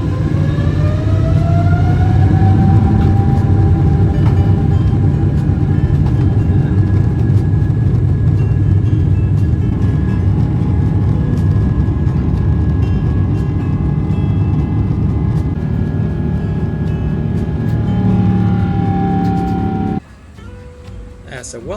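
Loud, steady engine roar from an airliner's takeoff heard inside the business class cabin, a constant dense rush with rising whine tones that drops away abruptly near the end.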